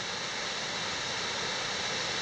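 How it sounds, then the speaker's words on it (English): A creek swollen with snow melt rushes steadily on a Sierra Nevada hiking trail, a dense unbroken roar of flowing water heard close by with no voices over it. "What a beautiful creek, huh?"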